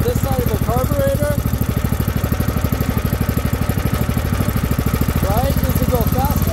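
A DuroMax 500cc small engine idles steadily with a fast, even thumping beat at close range while its carburetor idle screw is adjusted, running continuously throughout.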